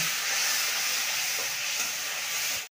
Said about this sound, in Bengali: এটা ভালো করে তেলের মধ্যে কষিয়ে নেব।